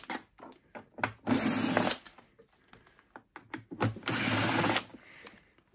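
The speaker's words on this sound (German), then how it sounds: "Die schraubt ihr bitte mal raus." A hand screwdriver with a Torx T15 bit backing decorative screws out of the side casing of a Thermomix C150, with two longer rasping whirs among light clicks and handling taps, nearby and fairly quiet.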